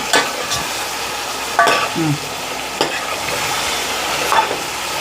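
A spoon stirs chicken biryani frying in a pan, with scraping strokes and clinks over a steady sizzle, close and moderately loud.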